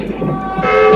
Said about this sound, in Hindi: हॉर्न बजाए मानो ट्रेन आ रही है।